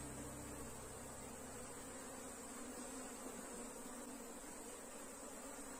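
A honey bee swarm drones in a steady, dense buzz close to the microphone while a beekeeper divides the colony and handles the queen, the hum continuous and unbroken throughout.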